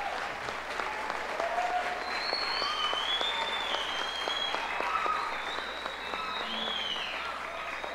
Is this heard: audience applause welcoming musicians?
yes